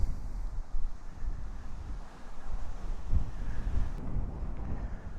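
Strong gusty wind buffeting the microphone at a campsite in Lahangan Sweet, Bali, Indonesia, a continuous low roar rising and falling with no talking.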